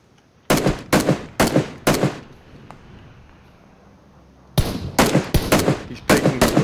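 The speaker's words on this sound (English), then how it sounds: "Shots west." Gunfire in the video game Squad comes in sharp, loud bursts: four shots spaced about half a second apart, a quiet gap, then a faster string of five or six shots.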